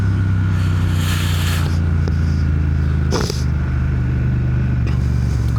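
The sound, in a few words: Triumph Speed Twin motorcycle exhaust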